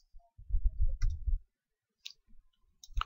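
A computer mouse clicks a few times with short crisp clicks, isolated against low muffled thumps and near silence between them.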